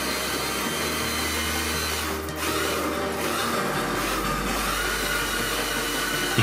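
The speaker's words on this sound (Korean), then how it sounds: "입고된 빔 중 현장에서 주보로 사용할 가장 긴 H빔에 웨지 앙카가 들어갈 구멍을 만들어줍니다." A power tool drills holes for wedge anchors into a long steel H-beam on a building reinforcement site, giving a steady, loud, continuous whine and grind that holds throughout with a slight shift midway.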